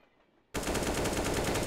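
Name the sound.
Kalashnikov gunfire in Counter-Strike: Global Offensive video game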